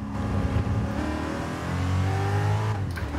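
Ford GT engine in Gran Turismo Sport, a loud steady drone with rising and falling revs as the car accelerates and shifts, sounding close and continuous throughout with no talk over it.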